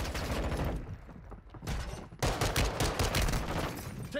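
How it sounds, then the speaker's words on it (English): Video game gunfire crackles in dense, rapid bursts, breaks off briefly around the middle, then resumes louder with heavy sustained fire, close and intense. "Taking effective fire."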